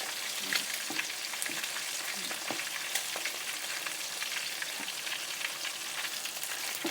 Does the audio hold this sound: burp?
no